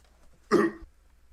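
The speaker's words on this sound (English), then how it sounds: "I was just coughing" A single short cough, close and fairly loud, standing alone against a quiet background during a relaxed gaming session.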